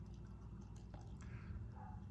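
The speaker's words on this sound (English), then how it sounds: "let's crack it open and pour it out into the Kozel glass" Beer is poured from a can into a Kozel glass, giving quiet, close liquid trickling and fizzing with a few small drips over a low background hum.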